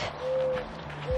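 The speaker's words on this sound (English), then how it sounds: "Birds are chirping." Birds call outdoors on a sunny day, two clear sustained whistle-like notes standing out close and alone against quiet background.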